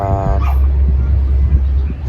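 A dog barks nearby beside a riverbank, with a sharp yelping bark near the start and then continuous outdoor noise and low rumble with faint voices.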